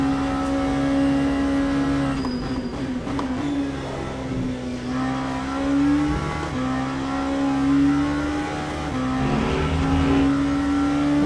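An LMP2 race car engine roars in Le Mans Ultimate at Monza, a steady high drone with rises and dips in pitch as it revs through gear changes, loud and close.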